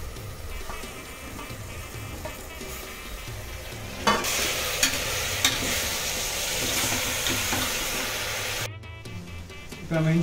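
Onion, salt, tomato and green chili sizzle and get stirred in a hot pan for mutton biryani, with scraping stir strokes over a steady fry and a brief burst of running tap water near the end.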